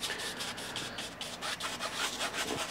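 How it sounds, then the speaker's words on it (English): A paintbrush scrubs white oil paint, thinned with a drop of paint thinner, into canvas, giving a steady close-up rubbing and brushing sound of bristles with repeated short strokes and no talk. "scrubbing it into the canvas"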